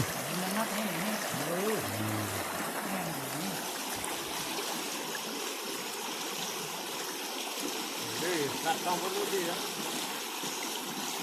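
Stream water flows steadily through a forest, a constant close wash and trickle that runs the whole time, with people talking over it near the start and again later.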